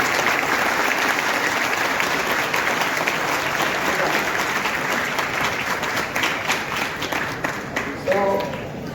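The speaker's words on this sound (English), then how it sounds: "Big round of applause for the parents." Audience at a college engineering orientation claps steadily for the parents in a moderately distant round of applause, with a few voices mixed in as it thins near the end.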